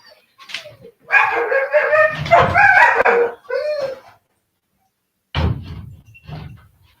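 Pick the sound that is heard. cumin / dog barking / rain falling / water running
dog barking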